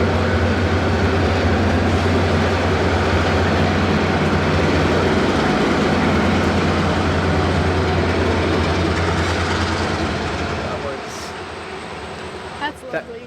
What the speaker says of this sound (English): Listen to those 2-stroke diesels.